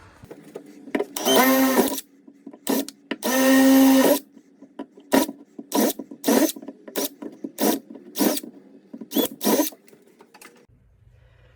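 A power drill with a wood bit bores into old cabinet wood near embedded nails, giving two long whirring runs followed by a series of short, sharp bursts, close and loud in a quiet garage.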